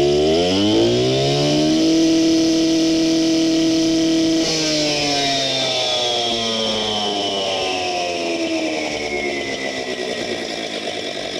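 A DIAM EX-350 petrol cut-off saw revving hard on the throttle, its engine whining loud and close and holding a high pitch for several seconds before easing slightly.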